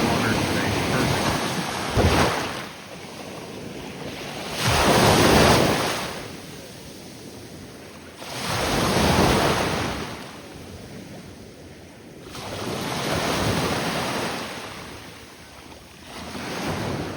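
Ocean waves breaking on a beach at Venice, Florida, swelling in loud rushing surges about every four seconds with softer wash between, plus gusty wind noise on the microphone.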